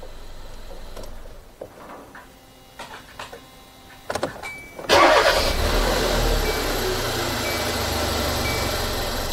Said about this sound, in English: So now let's turn off the engine so we can wrap up this video.